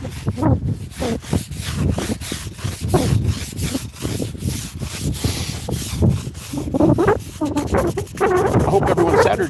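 A brush scrubbing a granite headstone with Granite Gold cleaner outdoors at a veterans' cemetery, steady loud rasping strokes in a fast back-and-forth rhythm, close up and continuous.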